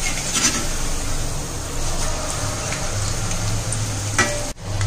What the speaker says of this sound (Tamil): எண்ணெயோட சலசலப்பு நிறுந்ததுக்கு அப்புறம் எடுத்துடலாம்.